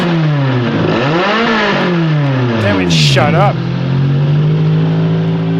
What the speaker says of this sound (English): the greatness of the 4AG, a little race engine right out of the factory